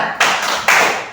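A group claps two loud, sharp bursts in a rhythmic cheer chant, a short pause between them.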